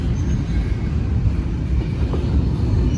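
Loaded CSX freight cars, including a five-section articulated car, rumble past close by on the rails, a loud continuous low roar with steady clanking through the whole stretch.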